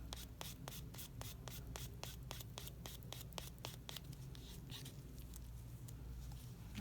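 A nail buffer scrubbing across an applied nail tip in quick, rhythmic strokes, a series of soft, sharp rasps that later blur into continuous gentle rubbing, faint and close.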